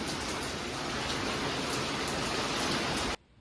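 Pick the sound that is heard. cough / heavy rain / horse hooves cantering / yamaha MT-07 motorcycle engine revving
heavy rain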